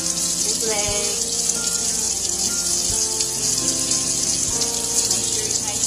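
Water streams steadily from a tap over a Labrador puppy during its first bath, a constant close gushing hiss with a few soft thumps.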